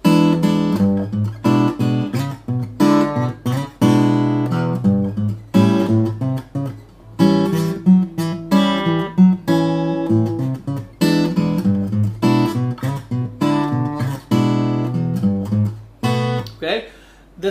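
Fingerstyle blues guitar with a walking bass line, played stiffly without groove; steady plucked notes and chords run throughout at close range with no talking.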